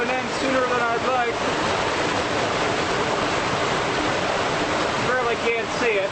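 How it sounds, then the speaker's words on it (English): A waterfall at Crater Lake National Park roars as a constant broadband rush, loud and steady, with a voice speaking briefly over it at the start and again near the end. "that's the waterfall with my rope hanging down from it."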